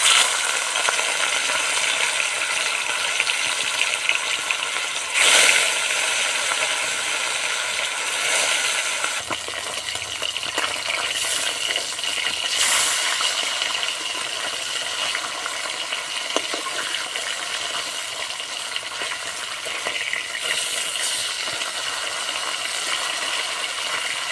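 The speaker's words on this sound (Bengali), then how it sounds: "তেল গরম হয়ে গেছে, এবার মাছগুলো ভেজে নেব।" Rohu fish pieces frying in hot oil for a Bengali fish kalia, a steady, fairly loud broadband sizzle and crackle running the whole time with brief bursts of spatter and a few light clinks, no voices.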